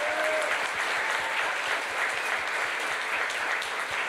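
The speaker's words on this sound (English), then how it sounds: "So round of applause for the winners." Audience applause for the winners at a hackathon closing ceremony, continuous even clapping from a sizable crowd heard alone without talking.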